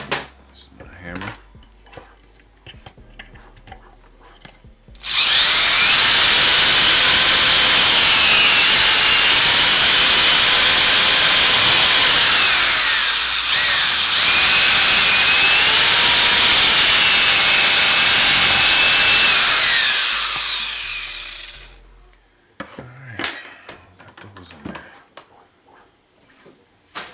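A loud, continuous high-pitched drilling whine through aluminum extrusion pieces for a 3D printer runs for about fifteen seconds, briefly dipping midway, with quieter clinks before and after.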